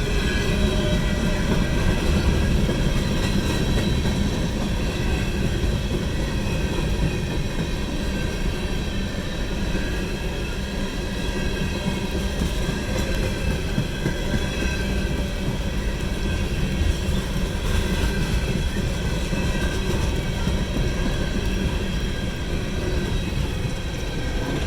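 A long coal train hauled by four locomotives rolls past, a loud continuous rumble and clatter of wheels and wagons sustained for the whole stretch with no talk.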